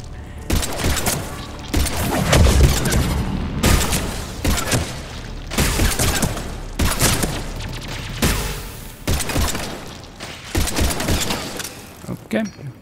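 Gunfire in the video game Mass Effect 3, bursts of shots and booms repeating in irregular volleys over about thirteen seconds, loud and close, with a voice speaking now and then between the shots.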